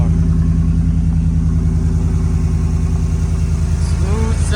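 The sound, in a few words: 2013 Ford F150 6.2 SVT engine running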